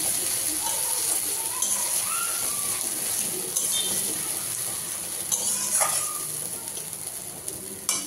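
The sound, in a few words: ginger, garlic and onion paste frying with potatoes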